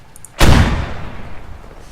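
A single SPG cannon shot in the Squad military game, a sudden heavy boom that decays into a rumbling tail over a second or so, loud and close, with no talk over it.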